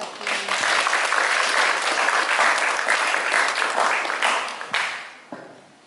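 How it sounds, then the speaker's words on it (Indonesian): An audience at a community charity event in Makassar bursts into dense applause after a speech, loud and sustained for about five seconds before quickly tapering off. "Berikan tepuk tangan dulu untuk Pak Heru."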